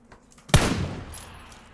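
One sharp, accidental gunshot rings out in a PUBG match and trails off in a short reverberant decay, with faint game ambience before it.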